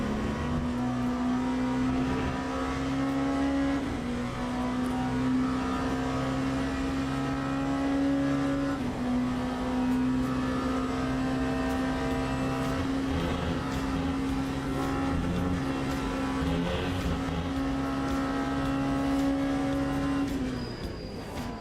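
A Mazda MX-5 (Mark III or 4) race car in Assetto Corsa Evo, holding a steady engine drone throughout with small pitch shifts and dips, as if lifting for corners and gear changes, loud and close.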